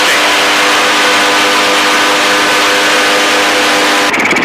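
Helicopter engine winding up as the pilot accelerates to climb, a steady loud droning whine with dense harmonic layers throughout, rising in effort, with a brief change in texture near the end.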